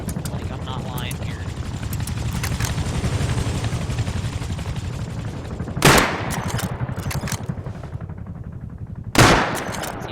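A helicopter in the Rust video game fires at the player, a dense rattling stream of gunfire over a constant rotor rumble, broken by two sharp loud bursts.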